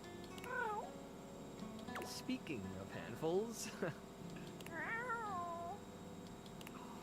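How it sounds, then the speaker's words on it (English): A black cat meowing in the video game Date Everything, several rising and falling meows close by, with a voice speaking briefly between them. "A small creature that looks rather like a black cat rubs up against Mateo's leg, meowing for his attention."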